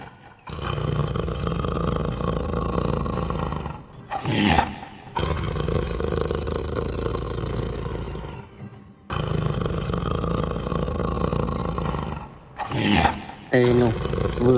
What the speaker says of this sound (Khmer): ស្រាប់តែមានសត្វខ្លាមួយគូដ៏ធំសម្បើមបានដើរមកកាន់ពួកគេ